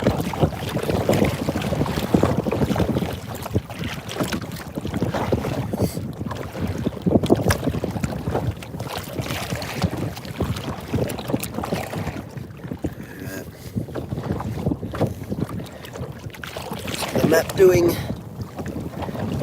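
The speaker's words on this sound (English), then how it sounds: "man, it's getting windy all of a sudden" Strong wind buffets a small fishing boat at sea near a reef, gusting loudly in uneven surges across the microphone, with someone speaking briefly at points.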